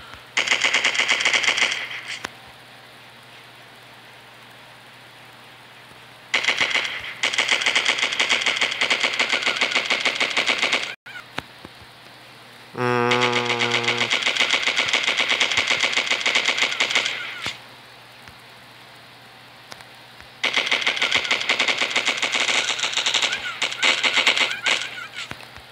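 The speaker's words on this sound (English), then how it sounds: "Okay, now time to shoot this thing." Video game machine gun fire comes in several long, sustained rapid bursts, loud and close, separated by quieter stretches of low background hum.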